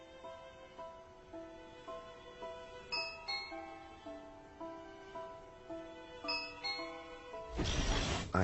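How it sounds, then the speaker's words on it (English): A doorbell chimes repeatedly in a tinkling melodic pattern, ringing tones rising and falling at a moderate distance, followed by a burst of noise at the end. "I had connected the doorbell to my gaming station."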